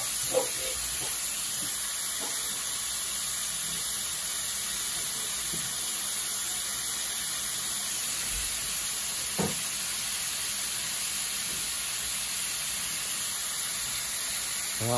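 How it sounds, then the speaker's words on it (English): Beef sizzles steadily in a hot pan, a soft continuous hiss with a few faint clinks and thumps, no talking. "Sizzling away."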